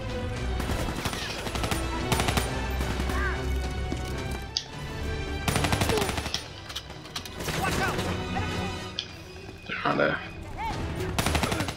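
Rapid gunfire crackles in a Black Ops 3 campaign firefight, dense bursts of automatic shots and single cracks with clattering impacts, loud and near, while someone talks over parts of the action.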